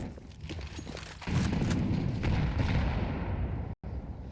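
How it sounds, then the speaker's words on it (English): Grenades exploding down Banana during a Counter-Strike match, with a few sharp gunshots, then a loud rumbling burst of blasts that sustains heavily for a couple of seconds, broken by a brief cut of silence. "Nades come barreling down Banana."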